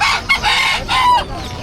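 A rooster crows once, loud and close, in a short raspy burst at a Bocaue pet market with faint market noise behind it.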